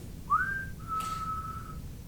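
A person whistles a short tune, a quick rising note followed by a long, level held tone, clear and close against a faint background hum.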